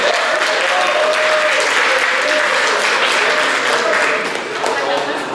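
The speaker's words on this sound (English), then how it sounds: "Give Rachel a big round of applause" An audience at a hypnotist's show bursts into loud, sustained applause, a thick continuous roar of clapping held for several seconds with a slight dip toward the end.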